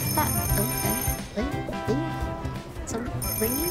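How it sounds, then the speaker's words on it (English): A phone rings in the video game Chicory: A Colorful Tale, giving repeated chiming tones over light game music, with a voice speaking briefly. "Some ringing?"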